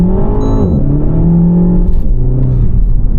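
A 2024 Renault Megane RS 300 Trophy, 300 hp, pulling hard at full throttle, its engine note loud and close, rising steadily through the revs with a brief dip at a gear change, no voices.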